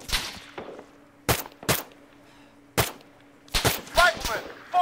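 Rifle and machine-gun fire in the combat video game Arma 3 cracks out in scattered single shots and short bursts, some loud and close, over a low background hum with a brief voice near the end.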